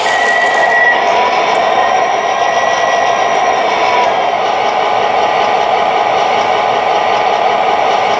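A steady mechanical hum of an MTH Premier GP-30 model locomotive motor running forward runs continuously, with a faint high whine fading out early on.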